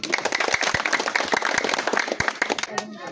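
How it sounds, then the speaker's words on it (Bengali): Outdoor crowd at a village gathering in Narsingdi, Bangladesh, clapping in a dense burst of applause for nearly three seconds before it cuts off abruptly, with voices mixed in. "এই জন্য বুলবুল ভাইয়ের জন্য একটা সবার করতালি দেই।"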